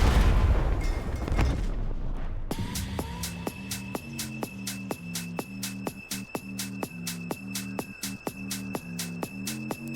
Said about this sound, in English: I like the sound when they fire, and the freezing effect looks cool too.